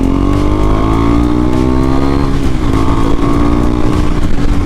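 KTM 390 Adventure motorcycle engine fitted with a PowerTRONIC ECU, revving loudly and steadily up and down at close range, with the engine note sweeping throughout and no talk.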